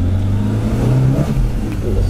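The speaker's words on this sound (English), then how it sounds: "Them engines, man, it sounds so good." A 1978 Ford Escort RS2000 with a Pinto engine revs loudly and steadily close by, its deep droning tone rising and falling slightly, with faint voices in the background.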